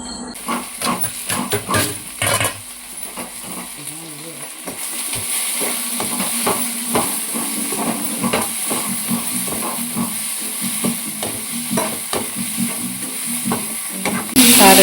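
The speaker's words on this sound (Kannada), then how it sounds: "ನೀರುಳ್ಳಿ ಟೊಮೆಟೊ ಅವೇನು ಪೂರ ಫ್ರೈ ಮಲ್ಪೊಡು" Onion and tomato fry in a pan, with a steady hiss rising partway through. Scattered clicks and scrapes of stirring and a voice talking in the background sit over the sizzle.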